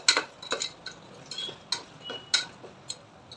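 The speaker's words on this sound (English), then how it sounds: "So turmeric and just a quarter spoon of coriander powder. Now we are going to mix it all." A spoon clinks and taps against a bowl while turmeric and coriander powder are mixed for egg biryani, a string of light, sharp metallic ticks at an irregular pace, close and alone.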